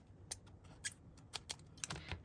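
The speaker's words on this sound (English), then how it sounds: "Purple scissors." Purple scissors cutting through cardstock for a handmade card, heard as a series of crisp, close snips in an irregular rhythm, each one short and sharp against a quiet background.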